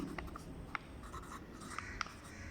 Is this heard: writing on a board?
yes